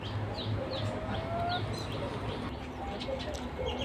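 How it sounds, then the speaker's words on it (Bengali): Chickens of several breeds on a poultry farm in Malaysia, soft scattered clucks and short calls over a low background hum, fairly faint and without talk. "এগুলো হচ্ছে অন্য জাতের মুরগি"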